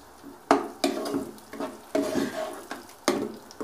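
Tomatoes frying with golden brown onions in a pan for beef liver fry, stirred in five or six sharp scraping strokes, each followed by a brief sizzling rush, close and fairly loud, no talking.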